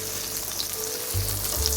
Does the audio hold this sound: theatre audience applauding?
no